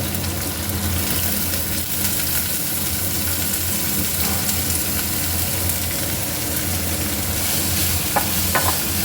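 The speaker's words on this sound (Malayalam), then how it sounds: "ഇനി ഇത് നമുക്ക് നന്നായിട്ട് വഴറ്റിയെടുക്കണം." Onions with ginger, green chili and garlic sautéing in a pan, a steady close sizzle with stirring scrapes running throughout and no voices.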